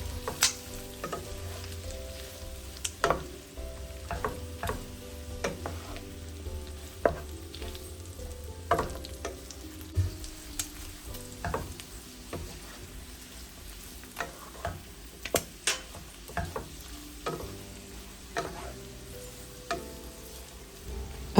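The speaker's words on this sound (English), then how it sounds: "I'll stir fry this for about 2 to 3 minutes" Chopped onions for fried rice sizzle steadily in a pan, with irregular scrapes and taps of a utensil stirring them throughout, fairly quiet and without voices.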